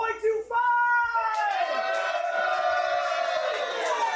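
A group of people erupts in a loud, sustained celebratory woohoo cheer at a party, voices rising together after a brief shout and holding the whooping chorus close and dominant throughout.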